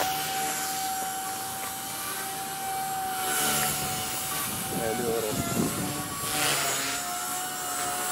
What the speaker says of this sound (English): This is definitely a nice helicopter.